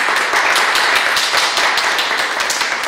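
A small group claps steadily and loudly in thanks to a dance teacher after a children's folk dance class, quick overlapping handclaps filling the whole stretch with no talk.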